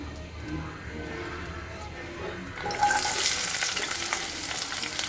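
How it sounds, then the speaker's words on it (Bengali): Onion, chili and garlic go into a hot pan for a dried fish curry. After a quiet start with faint kitchen clatter, a loud, bright sizzle suddenly erupts and keeps crackling steadily close by. "প্রথমে আমি পেঁয়াজ, মরিচ, রসুন ভালোভাবে ভাজিয়ে নেব"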